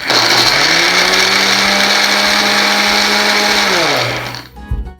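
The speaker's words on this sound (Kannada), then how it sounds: "ಇದನ್ನು ಚೆನ್ನಾಗಿ ಈ ಮಿಶ್ರಣನ ಗ್ರೈಂಡ್ ಮಾಡ್ಕೋಬೇಕಾಗತ್ತೆ." Mixer grinder blending dates and nuts into a paste, a loud continuous whirring motor with a pitch that shifts as the mixture churns, cutting off abruptly near the end.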